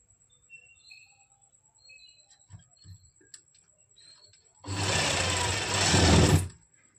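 A sewing machine runs in one steady burst of stitching on a kameez, close and loud for about two seconds after quiet ticking and faint bird chirps.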